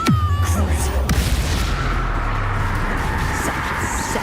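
A Confringo fire spell goes off in Hogwarts Legacy with a heavy boom and crackling blast, laid over rumbling combat noise and a voice calling out in game.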